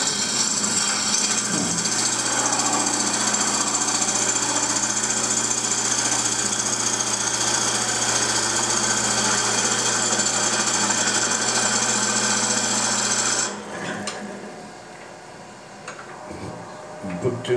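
A wood lathe spinning at about 900 RPM with a plain bowl gouge cutting the piece, a loud, continuous scraping drone over a steady motor hum that stops abruptly near the end.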